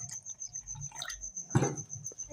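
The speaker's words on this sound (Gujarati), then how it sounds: "આ થોડું પાણી નાખીશું" Water pours into a pan for besan kadhi in a brief splashing burst midway, with faint drips before and after in a quiet kitchen.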